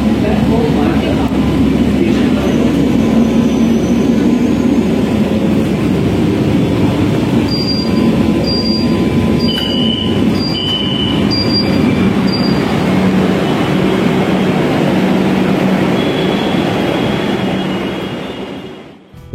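A Kolkata metro train runs into Ruby (Hemanta Mukhopadhyay) station, its loud rolling rumble and squealing wheels filling the car while a recorded voice announces and a series of short beeping tones sound midway.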